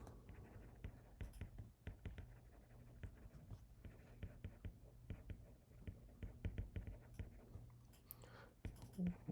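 Pen or marker scratching across a writing surface as equations are worked out during a vibrations lecture, soft and close, with short strokes and pauses.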